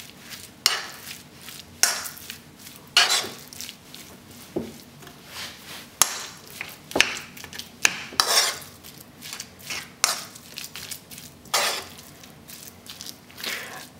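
Ground beef hamburger patty mixture with egg yolk gets mixed in a bowl, producing irregular soft squelches and repeated utensil clinks and scrapes against the bowl, close up with no talking.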